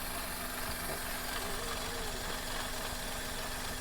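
A 2012 Maruti Alto LXi engine idles quietly and steadily, a low, even hum with a faint constant tone running through it and no revving across the few seconds.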